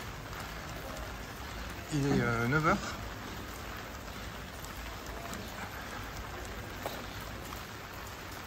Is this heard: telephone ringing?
no